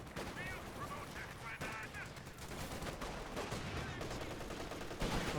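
Grenade blast amid steady gunfire in the World War II strategy game Company of Heroes 2, a dense, continuous battle din with bursts of shots and a sharper burst near the end, unit voice calls mixed in.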